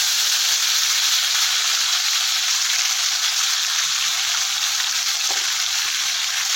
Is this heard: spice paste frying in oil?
yes